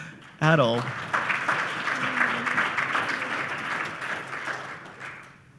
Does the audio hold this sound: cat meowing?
no